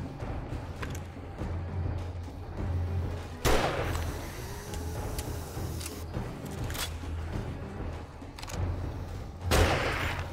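Gunfire in the survival video game 7 Days to Die during a solo blood moon night: two loud sharp shots a few seconds apart, with a third fainter report, over a low droning game ambience.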